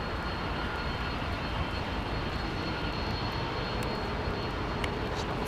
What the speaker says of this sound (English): I'm just going to let you listen to the sound of these beautiful Pratt & Whitney engines.